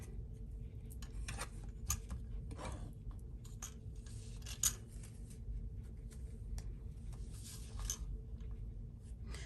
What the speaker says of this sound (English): I think I'm going to cut it down just a little bit.